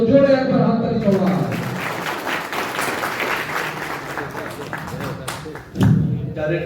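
Audience applause at a denim jeans bodybuilding competition in Malda, a dense, loud wash of clapping that holds steady, dips briefly, then swells again, with a voice talking over its start.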